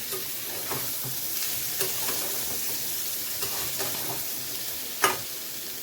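Raw jackfruit and potatoes frying in oil, a dense continuous sizzle with light stirring scrapes at intervals and one sharp utensil knock near the end.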